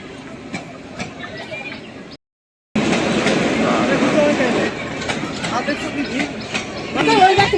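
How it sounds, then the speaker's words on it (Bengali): Local train at a railway station in Bangladesh, a steady rumbling rail noise with crowd chatter and voices mixed in, after a brief gap of silence partway through. "এই যে বাংলাদেশের ট্রেন"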